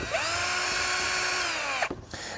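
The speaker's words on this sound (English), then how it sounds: "We need to remove 2 screws here." A power screwdriver whines steadily while removing screws from the battery plate of an ECOVACS Deebot Ozmo 950 robot vacuum cleaner, a close, even motor tone that stops abruptly, followed by a brief second spin.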